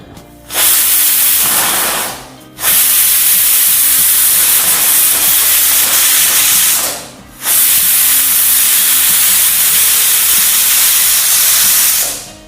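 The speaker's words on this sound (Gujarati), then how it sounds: "ત્રણથી ચાર વિસલ આવે તે રીતે આપણે આ દાળને બાફી લેવાની છે" Pressure cooker steaming moong dal, letting out loud, sustained hissing whistles in long blasts separated by brief pauses, close and dominant with nothing else audible.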